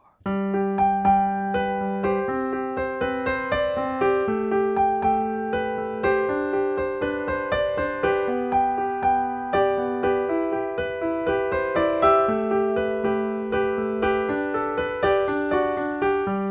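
A piano plays the main riff of a song, a repeating melodic phrase with steady rhythm and sustained chords, clear and continuous, with no voices.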